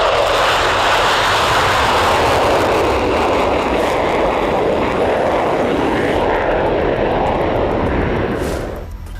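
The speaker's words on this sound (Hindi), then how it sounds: "इजरायली आसमान में अमेरिकी फाइटर प्लेन हुंकार भर रहे हैं" American fighter planes roar overhead in Israeli skies: a loud, continuous jet-engine rumble that stays steady throughout and eases off near the end, with no talk.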